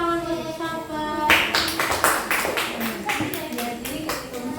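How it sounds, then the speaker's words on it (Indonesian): Children in an Indonesian classroom break into applause for a classmate, a burst of brisk, rhythmic clapping that starts abruptly after a sustained tone and carries on steadily, with voices mixed in. "Tepuk tangan untuk sahabat."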